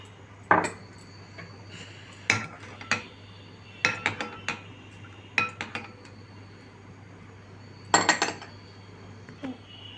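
A spoon stirs a milk and chia seed drink in a glass, making sharp clinks in short bursts with pauses between them against a quiet background.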